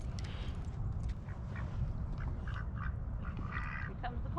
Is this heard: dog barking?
no